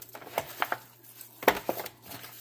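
Seasoned chicken legs being tossed and mixed in a dish, with close, scattered clinks and soft knocks against the dish and brief wet shuffling, sounding in short irregular bursts.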